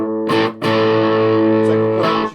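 Distorted electric guitar, a gold Flying V with a coil-split bridge pickup, plays a short loud chord, pauses briefly, then rings out a long sustained chord before another strum near the end.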